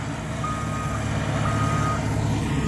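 Road construction machinery working on a village road in Düzce, Turkey, sounds its reversing alarm, a steady run of evenly spaced beeps over a low engine drone with no talk.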